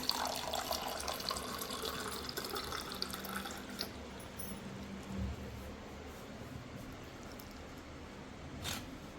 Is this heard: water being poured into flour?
yes